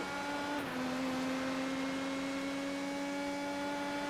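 Several IndyCar race car engines in iRacing at Road Atlanta drone steadily at high revs, packed close together, one engine's note shifting at a gear change, with no talk.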